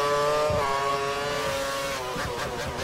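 Formula 1 race cars, Lotus and McLaren among them, racing in a video game: steady high engine whine with multiple harmonic tones shifting in pitch as cars pass and change gear, continuous and fairly loud, no talking.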